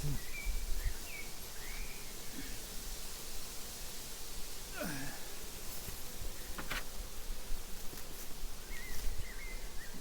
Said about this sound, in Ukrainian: Вітер.